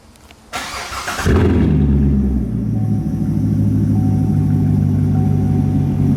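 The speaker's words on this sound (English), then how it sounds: "get a nice good old cold start on the new race exhaust" A Chevrolet C7 Corvette with a straight-piped race exhaust cranks briefly on a cold start, then fires up into a loud, deep exhaust rumble that settles into a throaty, steady idle close by.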